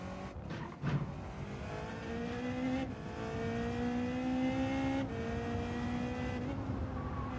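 Gran Turismo 7 Group 1 prototype race car engines rev and climb steadily through the gears, with brief drops at each shift, loud and continuous with no talking.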